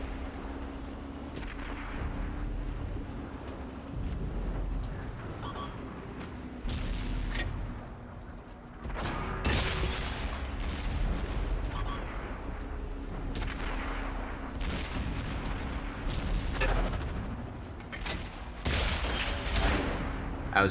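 Chrysler K tank cannon firing in World of Tanks on console, repeated heavy booming shots and explosive blasts scattered through a dense rumbling battle soundscape.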